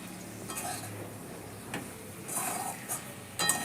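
Chili, salt and mustard paste is stirred in a pan, with a soft sizzle under a few light scrapes and clinks of a utensil against metal, quiet and close.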